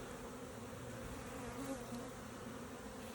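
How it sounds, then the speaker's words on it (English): Honey bees drone steadily throughout a hive inspection, a continuous low buzz heard close by and fairly quiet, with no talking over it. "whole lot more bees this week"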